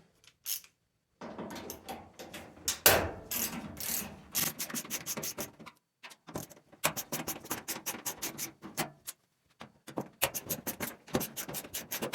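Repeated rubbing, clicking and ratcheting at close range as a screwdriver works the front cover screws loose on an LG dryer, in irregular bursts with short pauses and no talk.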